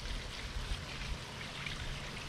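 Water is poured steadily into a steam canner while preparing to steam-can juice, giving a continuous, close splashing and trickling rush with no talking.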